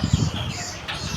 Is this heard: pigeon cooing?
yes